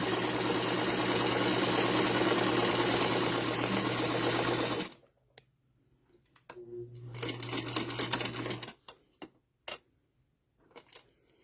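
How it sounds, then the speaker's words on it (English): A sewing machine runs a steady straight stitch across quilt strips for several seconds, stops, then runs again in a shorter burst among a few soft clicks and handling sounds, close and alone. "Now this machine only does a straight stitch."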